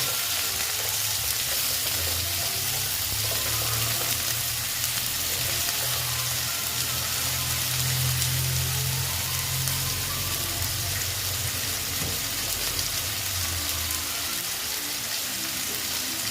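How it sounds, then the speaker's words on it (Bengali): Potatoes and onions fry in a pan for a Bengali fish curry, giving a steady, close sizzle with a low bubbling rumble underneath and no voices. "আলুগুলো পেঁয়াজের সঙ্গে আমি ভেজে নিচ্ছি"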